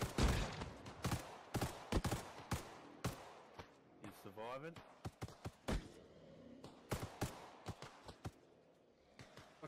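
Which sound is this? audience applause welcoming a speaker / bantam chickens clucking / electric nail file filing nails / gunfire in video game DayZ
gunfire in video game DayZ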